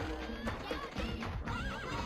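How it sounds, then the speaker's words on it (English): A horse whinnies in a Patapon video game trailer, a high wavering neigh with a hoof clip-clop, heard faintly over background music. "From the horse-riding Kibapon"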